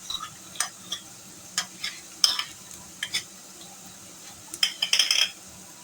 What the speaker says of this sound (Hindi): हल्का सा हम इसको प्याज के साथ फ्राई करेंगे